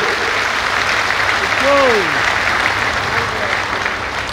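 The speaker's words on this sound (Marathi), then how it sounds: "जोरात टाळ्या शिंदे साहेबांसाठी होते" Loud, continuous applause from a large crowd at a political rally, a steady wash of clapping with a brief voice rising over it partway through.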